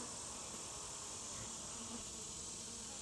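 Honeybees buzz steadily around an open hive during an inspection, a dense continuous hum of many wings at close range with no pauses or talk.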